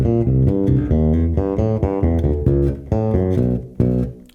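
Solo bass guitar plays an opening phrase, a quick run of punchy, syncopated sixteenth notes with a clear tone, loud and close with no other instruments.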